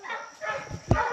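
Hunting dogs bark at treed raccoons somewhere off in the distance, a few faint yips and one sharper bark near the end, over quiet outdoor night ambience.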